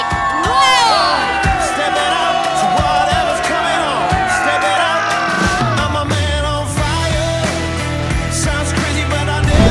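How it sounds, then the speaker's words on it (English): The crowd at a corporate award and recognition night cheers and whoops loudly over pounding event music, with shouts rising through the noisy hall. "Please give yourself a huge round of applause"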